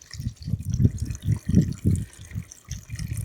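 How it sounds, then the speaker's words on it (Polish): Water poured from a watering can in a backyard garden, a bubbling, gurgling low splash in rhythmic pulses as the can tilts, close and moderately loud, heard alone. "Tu już wlewam wodę"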